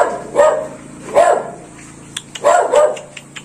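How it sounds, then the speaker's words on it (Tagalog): A dog barks near at hand in a rural Filipino yard, three or four sharp, loud barks spaced about a second apart, with a few softer yips between them. "May aso rito"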